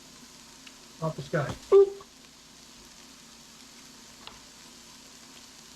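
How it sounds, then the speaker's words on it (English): Butter dropped into a hot frying pan, a short burst of crackling sizzle that quickly settles into a faint hiss, with a few spoken words over it. "Now let's throw in a little butter."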